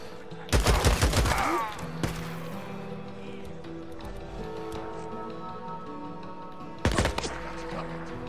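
Gunfire in the Days Gone video game: a loud, rapid burst of shots up front, a lone report after it, then a quieter stretch before another short close volley near the end.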